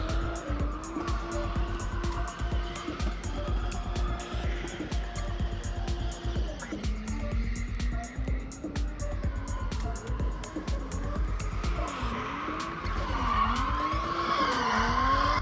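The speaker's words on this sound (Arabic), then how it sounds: "من صوت السيارة نعرف أن هذه سيارة من نوع توربو وليس من نوع الانجكتر" A turbocharged car drifts on a skid pan at Umm Al Quwain, loud tire squeal and skidding wavering in pitch over a revving engine, continuous and close throughout.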